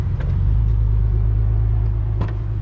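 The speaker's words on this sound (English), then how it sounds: "I don't know what that car is doing there." A car drives by close on a road, producing a loud, steady engine rumble that fills the whole stretch, with no talking.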